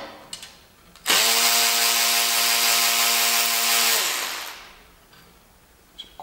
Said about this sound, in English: I'll be using my favorite electric ratchet.